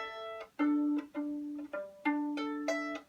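Bowed violin notes sound in pairs a fifth apart, a lower tone followed by a higher one, held briefly and played cleanly with no talking.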